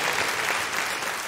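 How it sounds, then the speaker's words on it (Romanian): Audience applause at a Romanian stand-up comedy show, a dense, steady wash of clapping filling the whole moment without a break. "Vă mulțumesc pentru aplauze"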